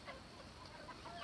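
Chickens cluck softly at morning feeding time on a rural farm, a faint, steady scatter of short clucks with no talking over them.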